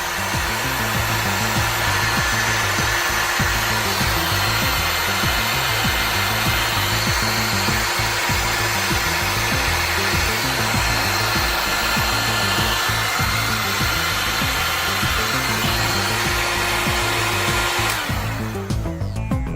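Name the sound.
heat gun melting heat shrink tubing and solder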